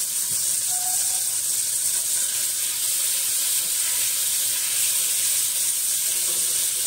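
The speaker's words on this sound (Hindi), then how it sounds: "अब मैं यहाँ पे डालूंगी लहसुन" Steady hiss of crushed garlic sizzling in hot butter for dal tadka, continuous and close, with no talking.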